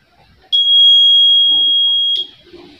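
A buzzer on a school robotics flame-sensor project sounds one loud, steady electronic tone for about a second and a half after a flame is brought near, with faint background noise before and after.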